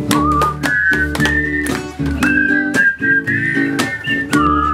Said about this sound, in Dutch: En allemaal fluiten, dat kunnen we niet.